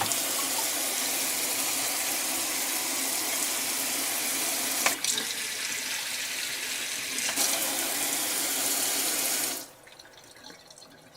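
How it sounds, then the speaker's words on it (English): Water running steadily from a Lippert Flow Max stainless steel RV faucet into a new sink, a constant close hiss with a couple of brief changes in flow before it is shut off near the end. "the faucet is all installed and working well"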